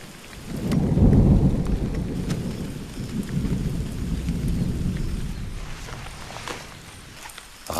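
Rain pours steadily over an ant garden in the French Guiana rainforest, with a deep rumble of thunder rolling loud early on and then easing into a sustained wash of falling rain and scattered drops.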